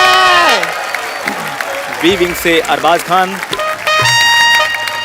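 Studio audience applause and cheering at a Hindi comedy talk show taping, a loud clapping wash swelling at the start and end while a host announces a celebrity guest over it.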